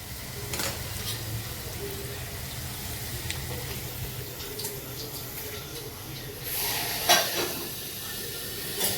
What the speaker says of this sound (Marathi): आता डाळ फोडणीला टाकते.